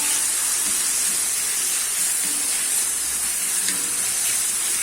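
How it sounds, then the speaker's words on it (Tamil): Three medium tomatoes sautéing in a pan with salt for roadside-style tiffin sambar, giving a loud, even, continuous hissing sizzle with no breaks. "இப்போ தக்காளி வதங்க உப்பு போட்டுடலாம்"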